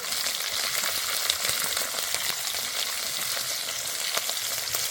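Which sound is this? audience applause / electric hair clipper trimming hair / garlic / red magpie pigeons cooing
garlic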